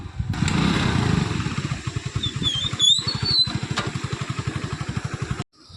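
A motorcycle passes close by on a windy, rainy day, its engine thumping in a loud, rapid, evenly pulsing rhythm. A couple of higher whines come through the middle, and then the sound cuts off abruptly near the end.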